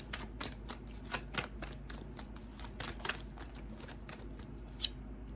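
Tarot cards are shuffled and drawn in a steady run of quick, papery riffles and flicks, close and fairly soft, continuing without talk for several seconds.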